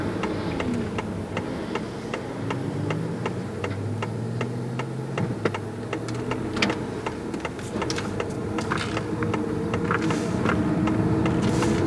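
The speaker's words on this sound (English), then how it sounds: "That's a huge truck." A large truck passes on a road, its engine rumble and road noise steady and close throughout, swelling slightly toward the end alongside rhythmic ticking from inside the car.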